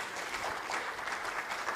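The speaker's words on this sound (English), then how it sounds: "a big round of applause to our panelists" An audience applauds steadily through the brief stretch, a dense patter of clapping at moderate volume with no speech.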